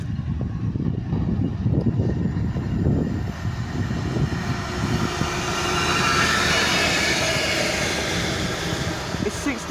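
A Class 390 Pendolino train on the London Euston to Liverpool Lime Street run passes through Rugeley Trent Valley station with a loud, rising rush and roar, ending in a sustained whine as it goes by close.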